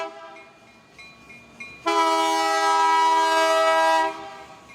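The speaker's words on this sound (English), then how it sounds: "Three SD-70M locomotives traveled light down Santa Ana Street in Anaheim on the Santa Ana branch" Three SD70M locomotives run light down Santa Ana Street in Anaheim on the Santa Ana branch. Engine rumble is joined by a loud, sustained multi-tone horn blast lasting about two seconds, close by.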